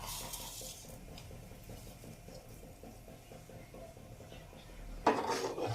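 A spoon stirs a cumin and potato mixture in a pan, giving soft, quiet scraping and light clinks, then a sharper clatter of cookware near the end.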